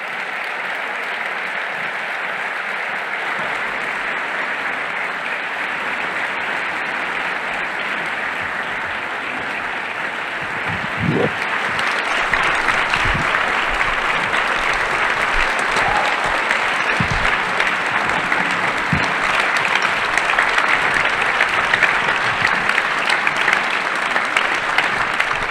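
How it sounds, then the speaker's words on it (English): An audience at an evening conversation event with Dr. Cornel West and Dr. Robert P. George applauds as the guests walk on stage. The clapping starts moderate, then swells louder and fuller and is sustained for over twenty seconds. "You can give them a round of applause."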